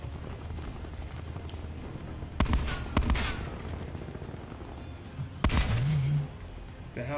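Video game gunfire in the western shooter Hunt: Showdown rings out as a few loud, sharp shots spaced seconds apart over a steady noisy ambience, with a brief echoing tail after each.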